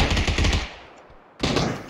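Rapid automatic gunfire in PUBG on the Erangel map, loud bursts at the start, a brief lull, then another burst near the end, with no talk.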